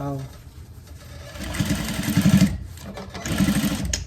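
A domestic sewing machine stitching through thick, gathered ruffle skirt fabric, with two rapid mechanical bursts of needle chatter that rise out of soft background noise.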